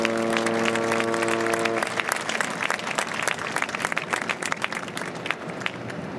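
An audience breaks into steady applause for Dan Clark, many hands clapping together at a lively, even pace that carries on unbroken, briefly overlapping a fading held musical tone at the start.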